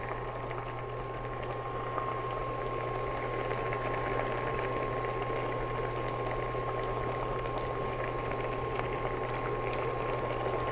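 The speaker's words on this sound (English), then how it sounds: "at this stage, let's add in our fish." Sea bass simmers in coconut milk with green mango, giving a continuous, close bubbling and gentle boiling hiss that stays steady throughout over a faint constant hum, with no voices.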